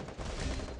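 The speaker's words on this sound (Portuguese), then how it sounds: "Ah, um tiro aqui, mano." Gunfire in the battle royale game Free Fire, a dense, loud burst of shots running continuously through the short moment with no pause.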